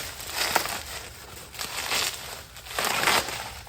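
Plastic wrap crinkles and crackles as it is peeled from a pre-tinted window for a 1995 Peterbilt sleeper bunk, coming in three close bursts of crumpling with short pauses between them.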